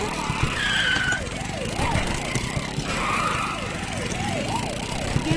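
A police car siren in the video game Bully Scholarship Edition wails in repeated rising and falling sweeps, loud and close, over a constant rumble of traffic noise.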